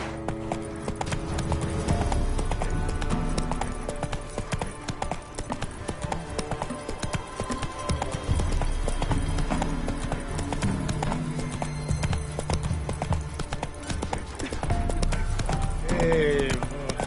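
Roach, a horse in a video game, gallops steadily across Velen, a rapid continuous clip-clop of hooves with a snort near the end, close and sustained throughout.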